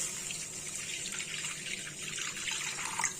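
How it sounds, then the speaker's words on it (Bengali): Water pours steadily into a pan of boal fish curry with turmeric, making a continuous hissing, splashing stream at moderate level with no break and no voices. "এবার আমি দেব পরিমাণ মতো জল মানে আপনারা যতটা ঝোল রাখতে চাইবেন ততটা দেবেন"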